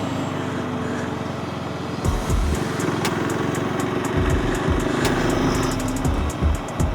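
A motorcycle ridden on a long daytime Spiti Valley trip from Narkanda toward Tabo gives a steady, close droning roar blended with rushing wind, with a series of light ticking clicks toward the end and no talk.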